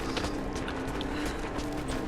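Soft, quick clip-clop of horse hooves in Rise of the Tomb Raider, a steady trotting rhythm under a faint mechanical hum.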